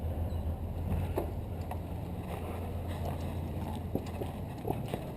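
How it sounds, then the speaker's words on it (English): ARB CKMTA12 12V twin high-performance on-board air compressor running steadily, a constant low motor drone with its cooling fans whirring behind it, heard continuously at close range with a few faint knocks. "the ARB twin air compressor in action."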